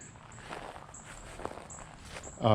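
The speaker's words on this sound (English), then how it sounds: "You can hear the dryness of the pine needles" Footsteps crunch over dry, dead pine needles beneath fire-hazard branches at Crooked Creek, a loose irregular tread at close range with one sharper crunch midway and a louder rustle at the end.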